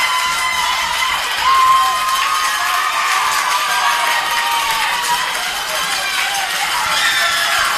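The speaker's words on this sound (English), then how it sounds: "Crowd getting loud here." A crowd at a Division I high school softball semifinal cheers and shouts steadily, a dense, sustained roar of voices with a slight swell, broadly filling the space.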